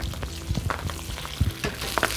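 Beetroot frying in melted butter in a pan while cooking salmon steak with quince, a steady close sizzle with crackling bursts and soft stirring scrapes throughout.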